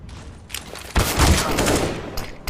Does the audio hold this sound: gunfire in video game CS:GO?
yes